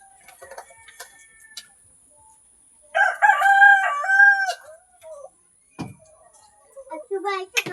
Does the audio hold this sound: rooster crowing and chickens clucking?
yes